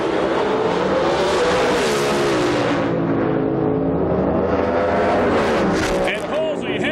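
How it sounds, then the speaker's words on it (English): A supercharged Corvette and a nitrous Camaro run a Pro Modified drag race at the 2005 IHRA Rocky Mountain Nationals, their engines a loud, sustained roar throughout with a commentator talking over it. "It's Corvette with a supercharger taking on the Camaro with nitrous oxide."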